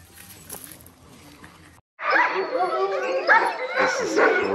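Several dogs on a trail outing suddenly erupt into loud, overlapping barking, yipping and whimpering after a quieter stretch, close by and continuous to the end.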